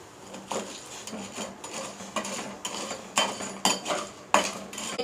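A spoon stirs and scrapes in a metal pot as jaggery melts in a little water, with repeated close clinks and scraping strokes at an uneven rhythm and no talk.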